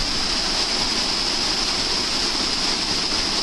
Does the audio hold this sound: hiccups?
no